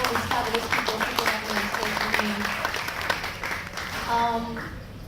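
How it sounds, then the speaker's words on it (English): An audience at a Microsoft Malaysia event gives a round of applause, moderate clapping from a crowded hall with a few voices and tonal sounds mixed in, fading toward the end. "I would like to have a round of applause actually for Microsoft"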